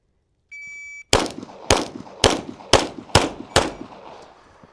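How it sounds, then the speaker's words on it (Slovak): Glock 20 pistol firing six sharp, loud shots in quick succession at range targets, each crack trailing a short echo, after a brief electronic start beep from a shot timer. "budem strieľať na terče od zadného až smerom ku mne"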